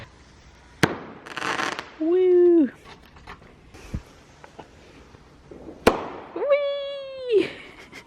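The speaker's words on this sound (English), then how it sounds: "There's fireworks going on all around us, so it was really magical." Fireworks go off outdoors all around, sharp bangs and crackling bursts at intervals, some near and loud, with whistling rising tones between them and excited voices shouting and cheering.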